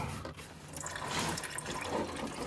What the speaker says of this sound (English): Okay, the fluid is coming out.